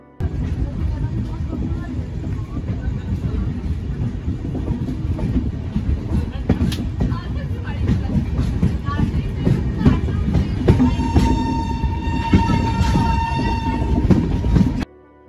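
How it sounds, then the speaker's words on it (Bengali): Saraighat Express 12346 passenger train on the Guwahati–Howrah run, rolling steadily with continuous rumble and rhythmic wheel clatter, close and loud, with a drawn-out horn sounding in the later seconds. "2 মিনিট দাঁড়িয়ে ট্রেন আবার চলতে থাকে তার নিজের ছন্দে।"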